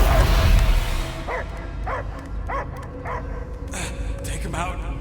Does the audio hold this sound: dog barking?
yes